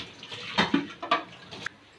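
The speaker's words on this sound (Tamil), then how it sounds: "இப்போ நல்லா மிக்ஸ் பண்ணிட்டு தண்ணி ஊற்றி கரைச்சி எடுத்துக்கலாம்." Water is added to spiced potato bonda batter in a mixing bowl: a few short, soft splashes and sloshes at close range, separated by brief pauses.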